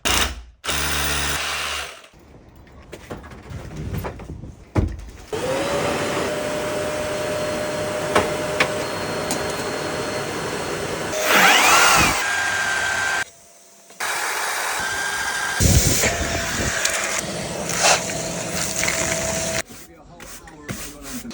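A power drill bores a hole through a wall, its steady motor whine running for several long stretches with brief pauses and a few shifts in pitch as the bit works through, close and loud.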